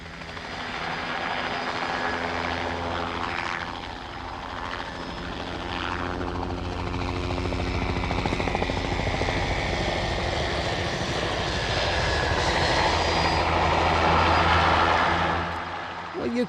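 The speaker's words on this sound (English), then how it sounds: "the helicopter comes in and picks up the crates full of the harvested berries" A helicopter's engine and thumping rotor drone steadily and grow louder as it passes close overhead above cranberry bogs, collecting crates of harvested berries, with faint speech underneath.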